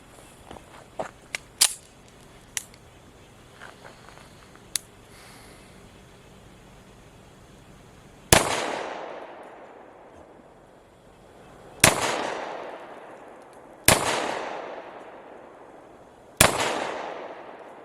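A Springfield Ronin 10mm 1911 pistol fires hard cast ammunition in four loud, sharp outdoor shots at intervals of a few seconds, each with a ringing tail, after some light handling clicks.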